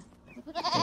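A farm sheep in the video game Skyrim Special Edition on Xbox One gives a short bleat that rises quickly out of quiet game ambience, close and fairly loud.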